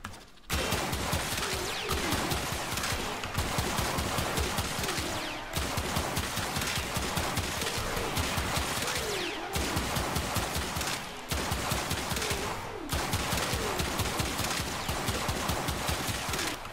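Pistol fire in Warframe, a dense continuous barrage of loud rapid shots with brief pauses between volleys, layered with game effects throughout.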